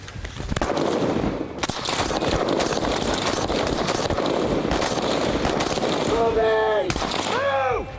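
Rapid gunfire crackles during a team shooting drill, dense overlapping shots from several shooters close by, with voices calling out under the shots and a few high whistling tones near the end.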